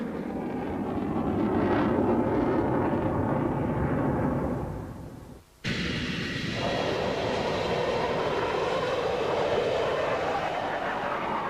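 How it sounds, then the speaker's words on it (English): A Grumman F-14 Tomcat fighter jet gives a loud, sustained broadband engine roar that cuts off sharply for an instant midway, then resumes just as strong with a brighter, rushing tone. "F-14 Tomcat."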